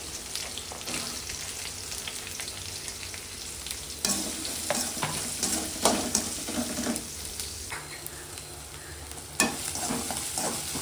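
Onions and curry leaves sauté in a pan for egg rice, a steady sizzle punctuated by frequent scrapes and clacks of a spoon stirring, close and clear with no talking.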